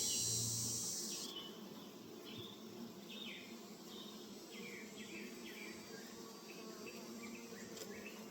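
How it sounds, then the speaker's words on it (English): Honey bees buzz faintly around a greenhouse hive, mixed with soft insect chirps and a quiet outdoor background. "I see a lot of bees coming in"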